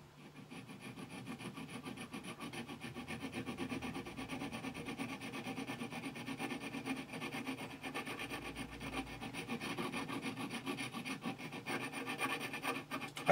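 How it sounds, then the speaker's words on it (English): A hand file rasps back and forth on a small brass watch part, a quiet, close, steady rubbing stroke repeated evenly without pause or voices. "I am just basically working around it like this with the file."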